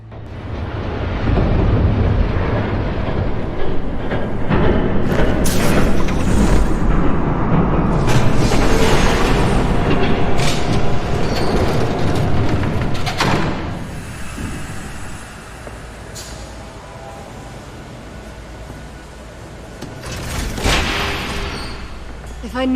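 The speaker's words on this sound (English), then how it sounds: "There's a train coming." A train rushes past in Batman: The Telltale Series, a loud, sustained rumbling roar with sharp crashing bursts that swells and then eases off, while voices speak over it.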